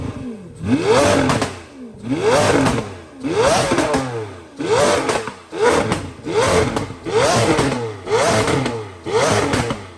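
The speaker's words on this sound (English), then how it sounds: "we're definitely gonna get some revs for the viewers" A Lamborghini Aventador engine with a Fi exhaust revs repeatedly, about eight sharp throttle blips rising and falling in a steady rhythm, loud and close.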